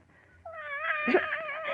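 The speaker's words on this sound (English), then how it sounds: "Mrs. Wilkes, I've told you never to let that cat in my room." A cat meows indoors, a single drawn-out, rising and falling cry lasting over a second, close and clear in a quiet room.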